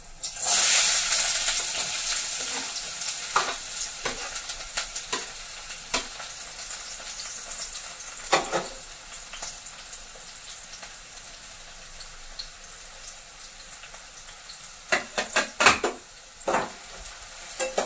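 Onion frying in oil with garlic, a continuous close sizzle that is loudest at the start, with scattered spoon-and-pan clatters and a burst of quick scraping stirs near the end.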